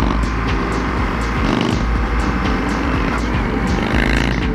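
An Indian FTR 1200 motorcycle engine revs hard and close through a run of jerky gear changes, its loud, rough roar rising and dipping with each shift.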